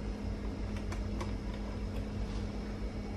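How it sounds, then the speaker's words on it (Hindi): Mixer grinder blending papaya milkshake with ice cream, a steady whirring motor hum with a constant drone and faint rattling clicks, running alone for a few seconds. "अब बंद करके ग्राइंडर कर लेंगे हम।"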